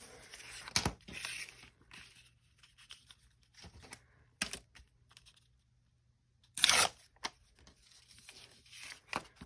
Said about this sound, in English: I know I ripped that a little bit long, didn't I?